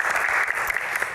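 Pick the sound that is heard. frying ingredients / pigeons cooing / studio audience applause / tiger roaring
studio audience applause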